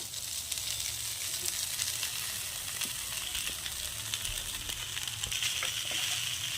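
Washed flattened rice (chira) with chopped green chili and raisins is stirred in a hot pan, giving a soft, even sizzle with faint scraping, moderately quiet and without voices.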